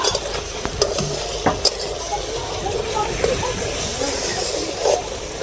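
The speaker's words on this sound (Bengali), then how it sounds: "জিরা, পেঁয়াজ এগুলো ভাজি করছি" Cumin and onion frying in a pan over a wood-fired stove, a steady close sizzle broken by sharp scraping and clanking stirs, with faint voices in the background.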